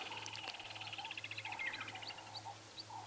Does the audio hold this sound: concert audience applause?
no